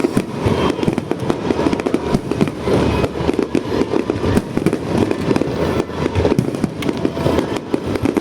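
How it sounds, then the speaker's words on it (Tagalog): Fireworks explode in a rapid, crackling barrage of sharp bangs and pops, loud and continuous, close by and without any talking. "Ayan yung ano yung fireworks na binili ko. Ganyan tunog."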